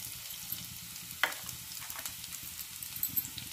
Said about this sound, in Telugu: పచ్చిమిర్చి తరిగి వేసుకొని ఫ్రై చేసుకోవాలి.